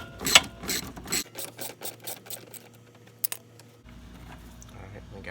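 A socket ratchet clicks rapidly while loosening a 10mm bolt on a Mercedes C300, a close run of sharp ratcheting with a few louder clicks and a quieter hum between.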